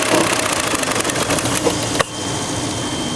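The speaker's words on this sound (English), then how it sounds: "Now we're sitting here at idle. You can hear the engine idling." A 2007 Hyundai Entourage minivan engine idling rough, a loud steady mechanical drone with a faint rhythmic tick and a brief click near the two-second mark.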